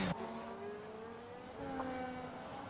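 Car spinning out at Bahrain in a racing video game, engine tones sweeping and dropping with a brief squeal, fairly faint and continuous for a few seconds.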